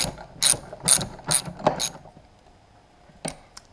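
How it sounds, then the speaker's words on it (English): Ratcheting clicks from tightening screws on a new Chamberlain B2401 garage door opener bracket: four quick bursts close together, then two faint, isolated ticks later, with no talking. "Just going to screw it in."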